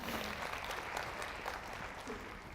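Audience applause in a talk setting, a steady moderate wash of clapping that carries through the whole moment without speech.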